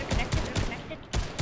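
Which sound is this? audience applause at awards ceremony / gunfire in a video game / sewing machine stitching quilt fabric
gunfire in a video game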